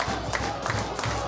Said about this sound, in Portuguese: Olha aí a torcida. Não para um só minuto.